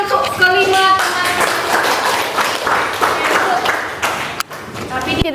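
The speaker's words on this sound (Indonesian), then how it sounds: "tepuk tangan untuk kelima teman" Classroom of students clapping for five classmates during a lesson, a dense, lively burst of hand claps with voices and chatter mixed in, close and loud.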